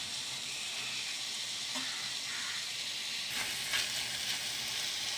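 Beans and potatoes frying in a pan for a curry, a faint, even sizzle and hiss with a couple of light stirring noises near the end, with no voices.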